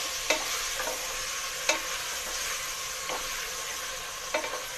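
Ginger garlic paste frying in a pan while being stirred, giving a steady close sizzle with a few scraping spoon strokes at intervals, no voices.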